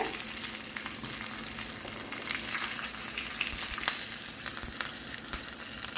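Hot tempering oil holding mustard seeds, urad dal, curry leaves and asafoetida powder hisses in a steady, dense sizzle with faint crackles and pops, meant for radish chutney.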